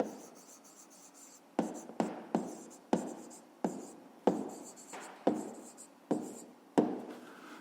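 Pen writing down a math answer by hand on paper: about ten short scratchy strokes, each starting sharply and trailing off, close and quiet, with no talk during the writing.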